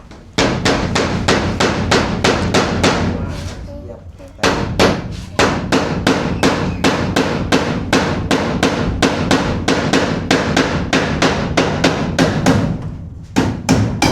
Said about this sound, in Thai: ตอกแบบระมัดระวัง